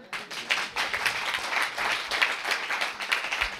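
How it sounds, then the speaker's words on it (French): Live applause from a church audience for a violinist, a brief quieter start and then a steady run of many hands clapping at close range, without speech. "On peut l'applaudir, hein?"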